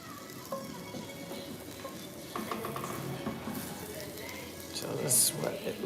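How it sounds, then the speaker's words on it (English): Chickpea, spelt, amaranth and quinoa flour bread reheating in a pan, giving a steady low sizzle and frying crackle with occasional stirring scrapes, close by and moderate throughout, with a brief sharper clink near the end. "I guess I could put it in the pan to let them reheat"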